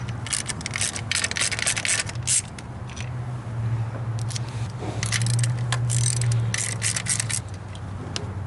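A ratchet with a 10mm socket clicks repeatedly while removing studs holding the coil pack assembly on a Chevy 5.3 Vortec LS engine, close-up bursts of rapid ratcheting separated by short pauses over a low steady hum.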